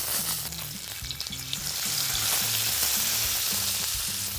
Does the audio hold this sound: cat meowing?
no